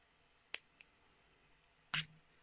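Scissors snipping crochet yarn on a small pumpkin stress ball, three quick crisp snips with short pauses between them, close and quiet with no talk.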